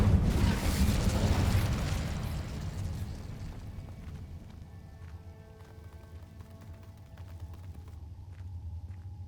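An Incendio fire spell cast in Hogwarts Legacy erupts in a loud, rumbling burst of flame that gradually fades into a lower, steady roar with faint crackles.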